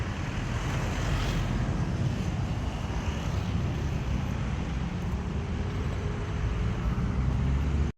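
Water rushes through a freshly cleared drainage connection in a steady, loud, unbroken wash of noise lasting several seconds before cutting off abruptly, with no voices.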